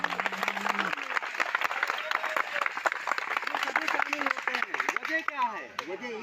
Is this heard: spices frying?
no